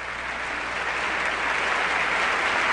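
Steady, sustained applause fills a large chamber during a joint session of the US Congress, dense and continuous from start to finish.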